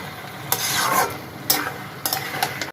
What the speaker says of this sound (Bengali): এবার আমি মাছের মাথাটা দিয়ে সব কিছু ভালো করে কষে নেব